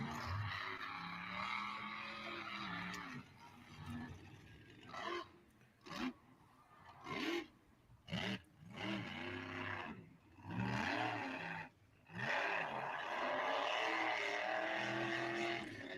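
The Avenger monster truck roars through hard revs, its engine climbing and falling in repeated surges with brief gaps between, loud and close amid arena noise.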